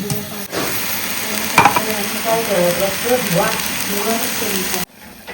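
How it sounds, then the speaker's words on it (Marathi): Masala roasting in hot oil for a Konkani chicken curry, a steady close sizzle and crackle with a spoon scraping and stirring through it, ending abruptly. "तेलामध्ये सेम तसंच मसाला पूर्ण भाजून घ्यायचा"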